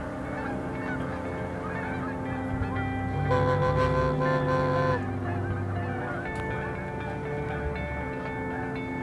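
A flock of geese honks continuously across an open field during a goose hunt, many overlapping calls forming a dense chorus that swells louder midway before settling back.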